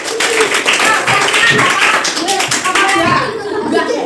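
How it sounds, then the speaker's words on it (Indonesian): Students in a classroom applaud a group with dense, steady clapping mixed with chatter and voices, loud and close throughout. "Dari tepuk tangan untuk kelompok 4"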